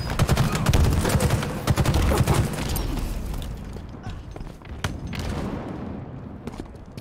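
Rapid bursts of automatic gunfire and crackling shots from a Halo Infinite Slayer bot match, loud and dense at first, then thinning into scattered shots and impacts with a few sharp cracks.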